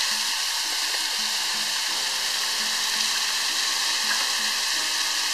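Chopped onions and grated ginger sizzle and fry in a pan, a steady close hiss with faint crackles and a few light stirring knocks, no voices, while a curry lamb is being cooked.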